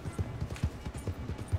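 Horse hooves gallop in quick, rhythmic clip-clop beats in Red Dead Redemption 2, steady and moderately close with no voices over them.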